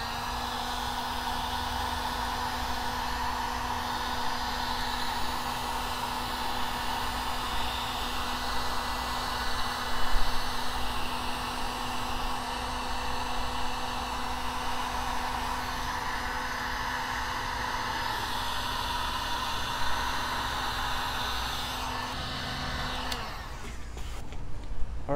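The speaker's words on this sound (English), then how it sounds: "you can speed this process up using a heat gun." Heat gun blowing hot air on paint being stripped, a steady close whooshing roar with a constant tonal hum that cuts off near the end.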